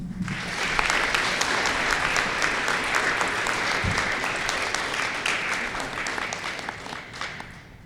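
An audience at an eighth grade promotion applauds an award recipient, a full wash of clapping that starts strong and slowly tapers over several seconds.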